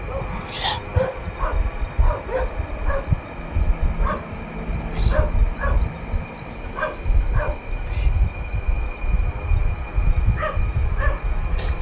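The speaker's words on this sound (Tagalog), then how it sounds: "Pinapakaramdaman ko ang kahol ng aso." A dog outside at night around 11pm barks and yips repeatedly in short irregular bursts, mid-distance, over a low steady background hum.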